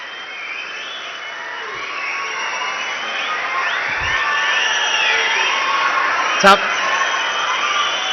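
A large crowd claps and cheers for a speaker at a public event, a steady, broad wash of applause with shouts and whoops that holds throughout, ending in one sharp loud knock.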